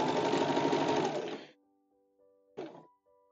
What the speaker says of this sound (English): Be interesting going over gathering with a zigzag stitch